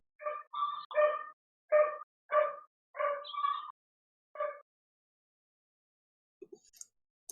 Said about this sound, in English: Yeah, the dog's coming in.